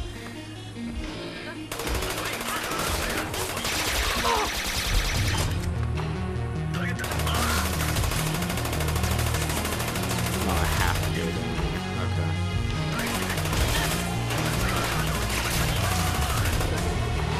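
Gunshots in the game Trials of the Blood Dragon: dense rapid fire and machine-gun bursts over pounding game music, loud and continuous for most of the stretch, with players talking now and then.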